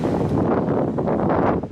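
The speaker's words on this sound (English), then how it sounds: "It is windy, so hopefully you guys can hear me." Outdoors on a hot, windy day, gusts buffet the microphone in a loud continuous roar that swells and drops without any speech over it.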